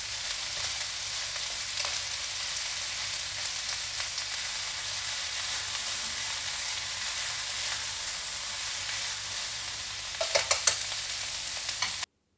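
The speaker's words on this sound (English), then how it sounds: "Now we add in the shiitake and cabbage. And we'll cook this until the cabbage starts to soften up" Shiitake mushrooms and cabbage stir-frying for yakisoba in a hot pan, giving a steady, even sizzle throughout with a brief burst of louder scraping and clatter near the end.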